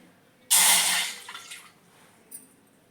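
One and a half cups of water poured into a pot to make two cups of tea, a short loud splashing gush lasting about a second that trails off into a few faint drips, heard alone.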